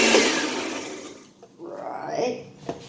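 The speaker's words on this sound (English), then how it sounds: "I love my blender. Makes great smoothies." Blender whirring through cannabis pesto ingredients of garlic, olive oil, basil and pine nuts, loud at first and then fading, followed by a short softer burst of blending.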